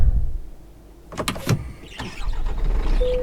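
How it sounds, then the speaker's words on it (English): Truck windshield wipers in the video game Euro Truck Simulator 2 sweep with a couple of quick mechanical whirs and thumps, followed by a steady low motor hum. "No, that is the wipers."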